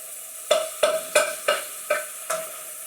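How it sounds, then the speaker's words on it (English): Spices, salt and peppers frying hard over high heat in a pan for a madras curry, with six quick, evenly spaced stirring scrapes cutting through a steady low sizzle. "we're going to fry about 30 seconds stir like mad now"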